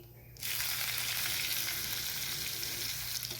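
A tadka of mustard seeds, cumin and cut green chili hitting hot oil in a pan, a sudden burst into a dense, steady close sizzle that holds strongly throughout without talk.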